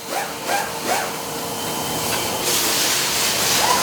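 A spray gun blasts bleach onto jeans for spray-wash fading in a denim workshop, producing a continuous loud airy hiss that swells in short bursts, then grows steadier and stronger, with no talking.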